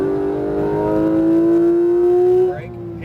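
Porsche 911 GT3 RS (991) flat-six engine pulling hard on track at Speed Vegas, a loud rising howl that climbs steadily in pitch and then cuts off abruptly as the throttle lifts.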